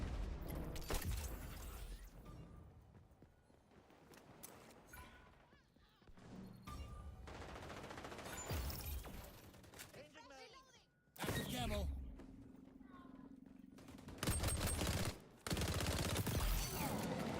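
Vector submachine gun firing in Call of Duty, with rapid bursts of automatic fire coming in several loud stretches mixed with other game effects, and a player talking over parts of it.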